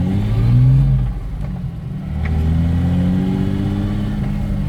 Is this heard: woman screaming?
no